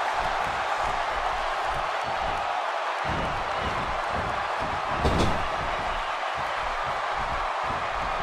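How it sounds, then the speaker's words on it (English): Wrestling arena crowd cheering at a tag-team event, a dense, steady roar of many voices filling the space, with a brief louder burst partway through. "That's how you make this crowd stand on its feet"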